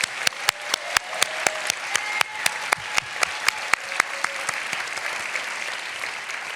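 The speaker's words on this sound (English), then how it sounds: "I'd like to ask everyone for another round of applause for both Amira and Carissa." Audience at a design school commencement ceremony applauds with sharp, distinct claps, fairly close and steady at first, then thinning and fading toward the end, with no talking over it.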